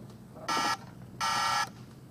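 Two short, buzzy electronic honks from a Bruder toy truck light and sound module horn, the second slightly longer, against a quiet background.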